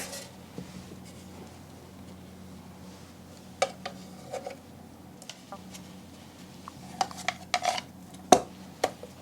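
Dough balls for a soft marshmallow white chocolate bread are set into a metal baking tin, giving sparse light knocks and clinks with a sharper clatter near the end over a quiet background.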